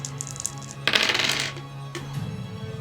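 Dice rolled during a Dungeons & Dragons Dark Sun tabletop session give a short, fairly loud clattering burst in mid-clip, with faint background hum before and after.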